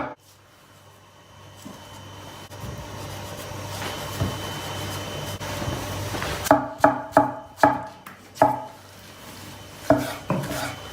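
A knife chops garlic on a cutting board in a quick burst of sharp, evenly spaced thuds, preceded by quieter kitchen clatter and background noise.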